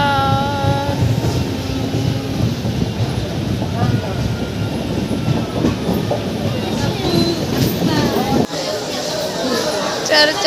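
Passenger train rolling on rails, a steady rumbling run with faint clatter and a brief dip near the end, continuous throughout with voices mixed into the background noise.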